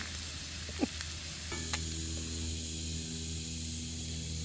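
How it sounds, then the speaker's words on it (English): A pound of thin-sliced bacon fries in a pan with a steady, soft sizzle and a few faint pops, fairly quiet and alone, with a low hum joining partway through. "We fry 1 pound of bacon."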